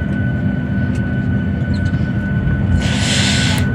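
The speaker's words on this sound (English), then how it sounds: "I'm on a plane." Steady, loud engine roar fills the cabin of a passenger airplane waiting to take off, a constant low rumble with a brief rise of hiss near the end and no talking.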